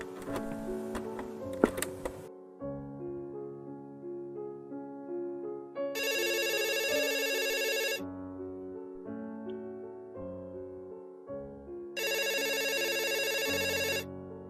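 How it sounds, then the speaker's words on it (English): A telephone rings in the space video game 2000:1 A Space Felony: two long bursts of bright electronic trilling, separated by a pause, over a steady synthesized music bed. "Answer the phone, Mal."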